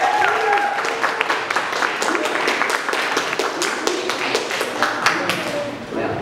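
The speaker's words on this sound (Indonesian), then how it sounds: "Beri tepuk tangan yang paling meriah" An audience at a school student council candidates' debate claps, a dense, sustained round of applause with sharp individual claps and crowd voices mixed in, fading slightly toward the end.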